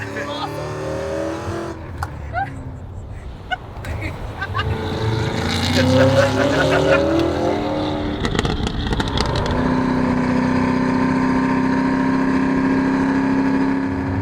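A 1000-horsepower Hennessey-tuned Cadillac CT5-V Blackwing accelerates hard on a track, its engine roaring and climbing through revs with sharp bursts near the middle, under excited voices.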